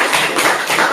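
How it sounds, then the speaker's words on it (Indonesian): A classroom of pupils breaks into applause, a brief burst of many hands clapping together, loud and close, filling the whole moment without speech. "Bagus sekali, tepuk tangan."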